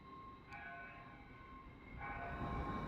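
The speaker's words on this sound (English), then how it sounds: "That train that's departing far from us, well, on the farmost platform" Distant train pulling away from the far platform at King's Cross station on the East Coast Main Line, a low rumbling roll that swells toward the end, with steady station hum and a brief high tone, no voices.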